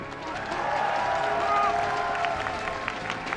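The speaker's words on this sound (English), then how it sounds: "Give it up for Trap!" At a StarCraft II esports event, the 2019 WCS Global Finals quarterfinals, a large crowd applauds and cheers in a sustained wash of clapping and voices that swells in the middle, mixed with a caster's commentary.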